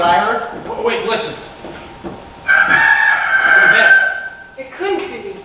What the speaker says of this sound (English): A rooster crowing on Mars, sir?